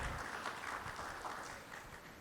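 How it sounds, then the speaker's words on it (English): An interview audience claps for Kartik Aaryan, a short, moderately faint burst that eases off slightly toward the end. "A huge round of applause for all, from all of you, for our favorite Karthik Aryan"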